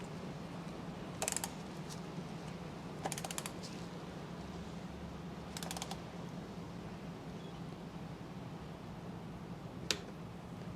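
A few sharp, faint mechanical clicks from a torque wrench reaching set torque during an oil change on a Honda CB500F motorcycle, spaced apart, over a steady low background hum.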